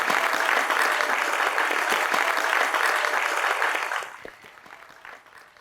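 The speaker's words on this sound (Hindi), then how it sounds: "उनके लिए भी तालियां बजाई दें।" Audience applause at a televised stage show, dense steady clapping that fills the space, then abruptly dies down to a few scattered claps near the end.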